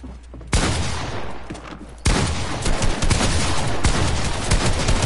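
Rapid bursts of loud gunfire in Fortnite, a sharp volley followed by sustained crackling shots that continue to the end.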